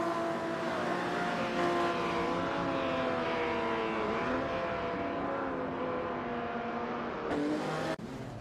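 AI-driven supercars, including an Aston Martin, race around Weatherfield Speedway in a racing video game, their engines droning in a loud, sustained whine that rises and falls as the pack runs close together, then cuts off abruptly near the end.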